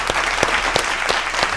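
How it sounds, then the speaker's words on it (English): Applause from an audience at a live hip-hop event, a dense steady patter of clapping with a few sharper claps standing out, filling the short moment without a break. "So let's give a round of applause to Slim David, please."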